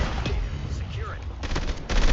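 Video-game gunfire crackles in quick bursts of rapid shots, broken by a brief lull before a final loud volley, with game voices and chatter mixed in.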